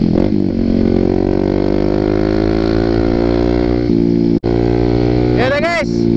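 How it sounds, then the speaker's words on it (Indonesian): A Kawasaki ZX6R motorcycle fitted with a new Muscov exhaust, a loud close engine note held steady with a brief cut, then sharp rising and falling revs near the end. "gimana menurut kalian knalpotnya di tracker gue yang baru, Maskov Exhaust, Muscov Exhaust"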